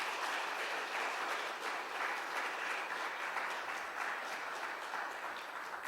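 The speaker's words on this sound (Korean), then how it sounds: "우리 격려와 그리고 또 환영의 박수 같이 크게 한번 할까요?" Church congregation clapping in welcome during an afternoon praise service, a steady dense applause filling the room without pause, fairly even in loudness, with no one speaking over it.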